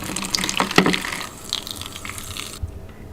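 Tap water gushes and splashes into a container to soak moss for a terrarium, a close, steady pour with sharp splashes, easing toward the end before cutting off abruptly.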